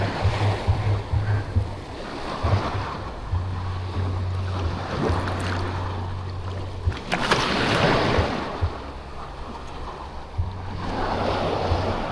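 Rough sea surf and waves wash steadily under gusty wind buffeting the microphone, with a low engine hum coming and going, no talking.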